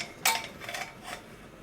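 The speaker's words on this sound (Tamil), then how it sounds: "சட்டி அடுப்பில் வைப்போம்." A metal pan is set down on a kitchen stove with a sharp clank, followed by a few lighter scraping knocks of cookware, close and clear with no talking.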